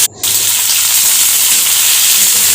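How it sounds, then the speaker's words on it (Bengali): Ridge gourd frying in hot oil with nigella seeds in a wok makes a loud, close, continuous sizzle. It starts abruptly after a brief hush and carries on with no speech. "এরপর কড়াই একটু তেল দিয়ে দিলাম একটু কালো জিরে দিলাম এরপর কয়েকটা ঝিঙে আমি দিয়ে দিলাম"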